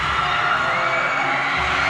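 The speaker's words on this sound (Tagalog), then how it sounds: "And this crowd is going crazy." A dense crowd at a Camarines Norte basketball game, Basud versus Vinzons, roars and cheers continuously in an indoor arena, loud and sustained with shouts rising above the din.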